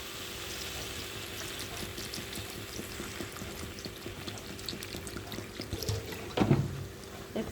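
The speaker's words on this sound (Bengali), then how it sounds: "এর ভিতরে আমি পরিমাণ মতন করে একটু জল দিয়ে দেবো।" Water is poured into a sizzling pot of shapla pata fish and potato curry. Steady low frying sizzle runs throughout, then a brief, close splashing pour comes near the end.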